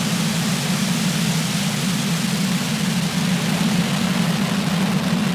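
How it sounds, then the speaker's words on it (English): A SpaceX Falcon 9 rocket lifting off with engines at full power, a steady broad roaring rumble that stays loud and unbroken throughout, with no voices. "Ignition, engines full power, and liftoff of Falcon 9."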